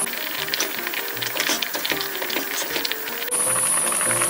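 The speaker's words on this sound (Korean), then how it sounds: "순두부찌개가 뽀글뽀글뽀글뽀글 끓고 있습니다" Korean soft tofu stew with pork boiling in a pot, a steady crackling, rattling bubble with hissing steam that stays close and continuous, growing brighter and louder near the end.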